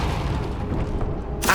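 The Depulso spell is cast in the Hogwarts Legacy video game, releasing a loud, low rumbling magical boom that rolls on for over a second and ends in a bright, hissing burst.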